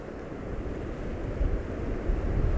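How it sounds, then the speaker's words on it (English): Ocean waves roll in on a stunning coastline with wind gusting, a steady broadband wash of surf and rumbling wind noise that swells slightly, with no talking. "The waves are just perfect. Can you see them coming in now?"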